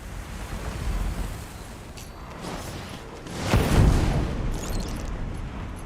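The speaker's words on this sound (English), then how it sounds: "Just throw them a good old bottle of fire." A thrown fire bottle bursting in Divinity: Original Sin 2, a soft whoosh followed by a rushing, booming burst of flame midway that trails off into a crackling wash.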